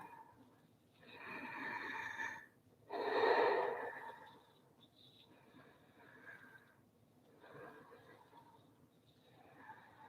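Slow, audible breaths drawn in and pushed out during a gentle yoga spinal movement, close and soft, each breath a separate airy rush with a stronger exhale near the middle and quieter ones after.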